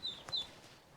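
Duckling peeping in thin high chirps, two short close bursts near the start and middle, fairly faint over a quiet room background.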